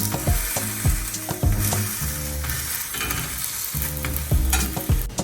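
Makki roti cooking with ghee on a griddle, giving a loud, steady close-up sizzle with repeated scraping strokes of a spoon across the surface.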